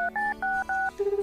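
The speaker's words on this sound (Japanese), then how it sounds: "ちょっと一旦光に電話するか" Rapid electronic telephone keypad tones in the Tokimeki Memorial 2 video game, five quick paired beeps in steady rhythm followed by a single lower sustained tone, clean and close with no talk.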